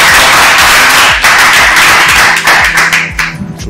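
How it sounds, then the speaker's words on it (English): An audience at a local startup summit claps in a brief, loud round close by, the clapping tapering off toward the end. "Let's clap."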